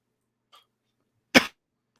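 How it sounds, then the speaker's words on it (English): A single sharp cough close up, preceded by a faint short breath or throat noise, otherwise silence. "I wouldn't have this cough then."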